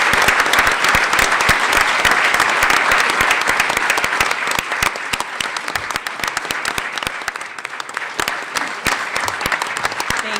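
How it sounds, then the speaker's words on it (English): Sustained applause from an audience at an honorees event, dense even clapping that fills the hall for about ten seconds, slightly easing midway then holding steady. "I would like to invite all of you to honor her with applause and thanks"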